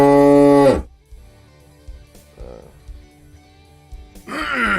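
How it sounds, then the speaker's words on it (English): A slowed-down cow moo sound effect plays back as a loud, drawn-out, falling low bellow, then goes quiet with faint background noise before a second moo begins at the end. "I dropped the speed of the moo, so it just sounds like it's hilarious."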